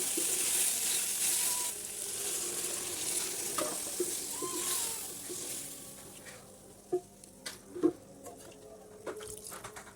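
A meat curry sizzles and spits in a pan as water is poured in, a busy close hiss that softens, then gives way to a few sharp pops and clatters.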